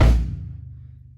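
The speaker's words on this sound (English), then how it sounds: "It's called the bass drum." A single bass drum kick from a drum kit, struck with the right foot on the pedal, a deep close thud that rings out and decays over about a second, alone without talking.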